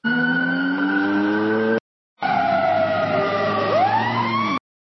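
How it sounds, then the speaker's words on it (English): AI-generated siren over a humming vehicle engine, approaching and passing: a loud wailing tone that drops in pitch as it goes by, split by a short silent gap. "humming engine approach and pass"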